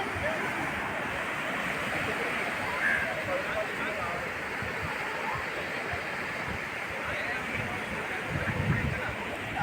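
Surf washing steadily onto Gokarna main beach in the morning while many people bathe, a continuous broadband rush with a slight swell near the end and faint voices mixed into the background.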